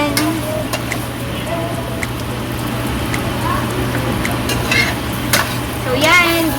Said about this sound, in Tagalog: Gisa-gisa lang ng konti.